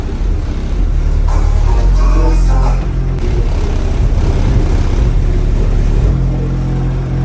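Deep, booming bass from a car subwoofer system rumbles loudly inside a vehicle, a heavy low throb that rises and falls in pulses with no one speaking over it.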